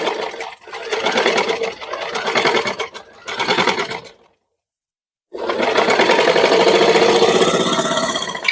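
A sewing machine stitches embroidery along a neckline, running loud and close in steady rapid bursts with short pauses, stopping fully for about a second, then resuming in one long continuous run.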